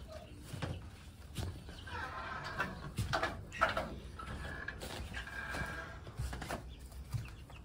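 Chickens cluck and murmur throughout, with scattered short calls and some rustling or flapping nearby, at a moderate, steady level.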